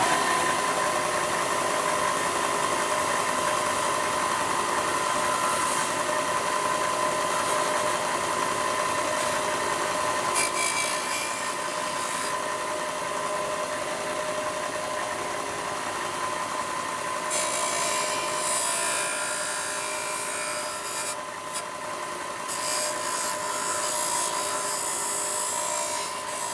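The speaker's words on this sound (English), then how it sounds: "I'm going to take and go over to the sanding block, and I'm just going to sand to that point." Powered sanding block sanding cab glass for a Cat 6015B RC construction excavator in a shop, a steady, loud, continuous buzzing whine running throughout with slight shifts in pitch and intensity, no talking.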